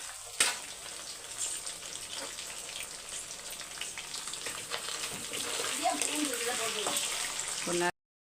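Chicken 65 pieces frying in hot oil while being turned, giving a steady close sizzle with soft bubbling and a few scraping stirs throughout.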